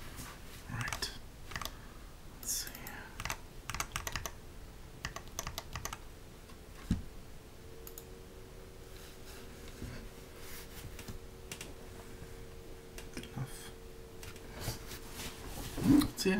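Mechanical keyboard with lubed KBDFans T1 switches being typed on: soft, muted clacks in irregular bursts and pauses, close-up, with a faint steady hum underneath.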